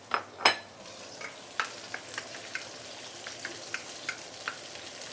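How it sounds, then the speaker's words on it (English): Shiitake mushrooms and browning ginger sizzle softly in a pan while a utensil stirs them, giving a couple of louder scrapes at the start and then a run of light, scattered clicks. "Then you can actually put in the shiitake mushroom."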